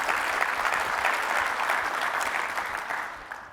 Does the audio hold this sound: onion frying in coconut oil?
no